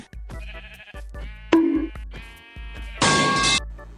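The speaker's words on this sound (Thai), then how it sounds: "และผมก็ได้มาทำการสังหารแกะนะครับ เพื่อจะมาทำเป็นเตียงนะ" A Minecraft sheep gives several short blocky bleats as it is killed, each call clear and close, separated by brief gaps, ending in a louder noisy burst, with no talking.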